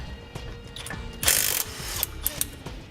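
A ratchet wrench removing 9/16 nuts from a brake backing plate, with bursts of quick clicking pawl ratchets close up, a louder metallic clatter partway through, then more short ratcheting runs.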